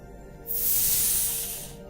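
An HPA air bottle on an airsoft rifle being decompressed, a sudden loud hiss of escaping air lasting about a second before trailing off, close and alone.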